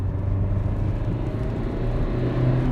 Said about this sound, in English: Sounds like a proper diesel.